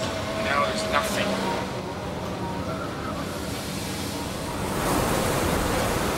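Storm-driven ocean waves pound a fishing boat at sea at night, a continuous loud wash of surging water and wind that swells again toward the end.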